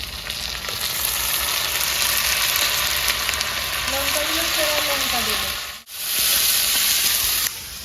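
Ginger-garlic paste sizzles steadily in hot oil in a village kitchen, with a continuous frying hiss that drops out briefly near the end before resuming. A voice speaks faintly under it.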